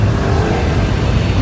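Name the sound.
road traffic, cars in a traffic jam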